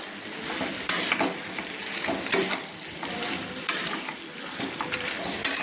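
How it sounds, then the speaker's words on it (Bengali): Fish head pieces stirred with spiced potatoes in a pan over a low flame for macher mathar kosha, a steady close sizzle with repeated sharp spatula scrapes and clacks and no voices. "মাছের মাথার টুকরোগুলো মশলা আলুর সঙ্গে কিন্তু আমি নেড়ে নিচ্ছি, একসঙ্গে মিক্সড করে নিচ্ছি"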